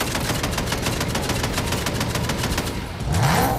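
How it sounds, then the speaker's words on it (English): A machine gun turret firing in the Fortnite video game, a rapid continuous burst of evenly spaced shots that cuts off near the end, followed by a rumbling engine. "Let's just machine gun turret instead."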